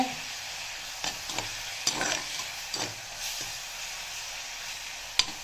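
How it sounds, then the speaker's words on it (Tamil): Thuthuvalai greens sautéing in a pan, a soft steady sizzle broken by occasional spoon scrapes and stirring clatters, close and fairly quiet with no voices. "இப்போது இந்த கீரை நல்லா வதங்கிடுத்து."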